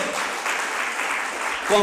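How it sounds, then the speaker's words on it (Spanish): A Baptist church congregation applauds during a sermon, giving a sustained, even roar of clapping that fills the room, with a voice breaking in at the end. "¿Cuánto le da un aplauso al Señor por su palabra?"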